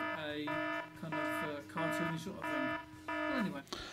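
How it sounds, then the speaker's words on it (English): An electronic alarm sounds in five evenly spaced bursts, each a steady buzzing tone with short gaps between, fairly clear and close. "you can tap on, say, an alarm, for instance. You put an alarm in there"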